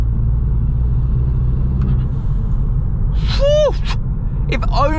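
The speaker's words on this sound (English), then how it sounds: "I think the blow-off valve helps the car, the turbo" Turbo blow-off valve on a 280 bhp Volkswagen Scirocco, two sharp descending whooshing chirps over a constant loud engine and road rumble inside the car.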